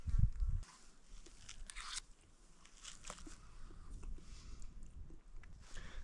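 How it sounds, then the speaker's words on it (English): Crunchy salad with dressing being chewed outdoors at a lakeside campsite, soft close crunching and biting repeated irregularly over several seconds, fairly faint under light outdoor ambience. "That tastes incredible. The texture is a little crunchy still."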